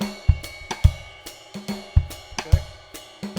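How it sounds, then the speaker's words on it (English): A drum pattern alternates deep, resonant tom hits with sharp, dry side-stick clicks in a steady, repeating rhythm, played alone and close. "let's move it between the rack tom and a side stick"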